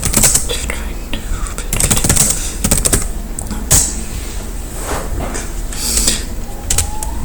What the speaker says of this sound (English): so I can just type in, VLC Media Player